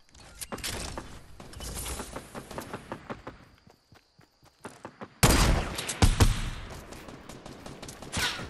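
Video game gunfire: rapid bursts of close shots and crackling fire, a quieter stretch of sparse pops mid-clip, then a loud renewed barrage of heavy shooting.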